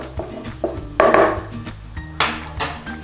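Tomato puree being stirred into oil-bloomed spices in a cooking pan for chicken dopiaza, with a series of close scraping and clinking utensil strokes against the metal pan and a soft sizzle beneath, no talking.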